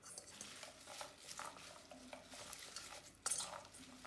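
Roasted vegetables being stirred together in a bowl for an oriental salad with mustard dressing, a steady soft scraping and light clinking of a utensil, faint and close, with a sharper knock near the end.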